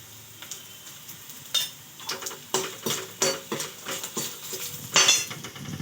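Turmeric goes into a hot pan while cooking poha, with sizzling oil and a series of sharp scraping and stirring clinks from a spoon against the pan, close and irregular.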